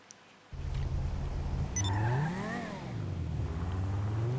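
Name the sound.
video game sports car engine revving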